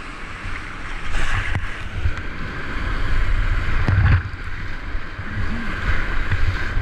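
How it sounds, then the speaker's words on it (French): Water rushes and splashes steadily through river wave trains on the Moisie River, kayaking, with a few heavier slaps and gusts of wind buffeting the microphone. "j'aime ça, des trains de vagues."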